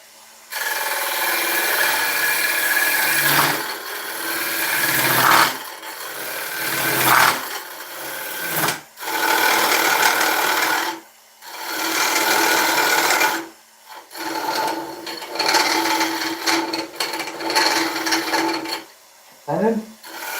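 A carbide roughing tip cuts a die-back ash bowl spinning on a lathe, giving a harsh scraping, rasping drone in repeated passes broken by short pauses, loud and close with no talk.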